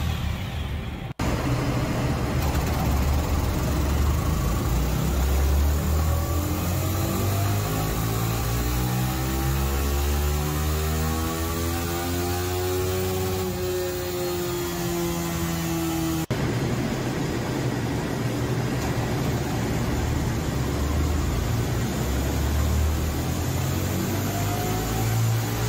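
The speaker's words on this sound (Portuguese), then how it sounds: "Acabei de puxar R15 no dinamômetro" A 2024 Yamaha R15 motorcycle runs on a dynamometer, its engine droning steadily as the pitch climbs and sweeps upward through a pull over a constant loud mechanical roar, then settles back, alone without talk.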